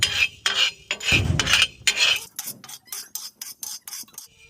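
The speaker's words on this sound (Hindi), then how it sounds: "काली मिर्ची को डालकर काली मिर्ची को भी भूनेंगे हम साथ में" Black peppercorns are dry-roasted and stirred in a pan with ajwain, giving a series of scraping, rattling strokes with sharp metallic clicks, close and fairly loud, that quicken into short rhythmic scrapes.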